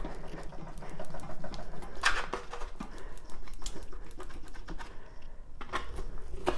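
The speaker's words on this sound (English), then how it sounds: "But so this one, I'm just gonna cut it in half." A knife saws through a chuck roast for pot roast, cutting it in half with a steady run of soft, close scraping and slicing strokes and a few sharper clicks against the board.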